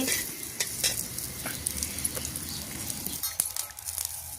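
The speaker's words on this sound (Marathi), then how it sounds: "तेही थोडंसं तेल टाकून मी भाजते" Thinly sliced dry coconut roasting in a little oil, a close sizzling crackle punctuated by several light metallic stirring clinks, no one speaking.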